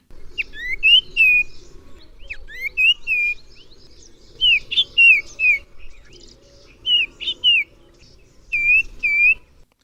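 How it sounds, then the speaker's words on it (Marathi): A common iora sings in repeated bright, whistled phrases with quick chirps, sounding close and clear in short bursts over a soft, steady background hum. "आता आपण ऐकूया कॉमन आयोराचा आवाज म्हणजेच सुबक पक्षी"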